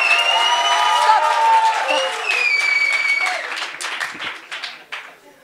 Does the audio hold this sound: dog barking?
no